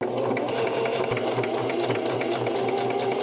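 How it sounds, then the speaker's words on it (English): A sewing machine top stitches a seam on a pair of Lane pants, whirring loud, steady and close throughout with no pauses. "So we did our top stitching"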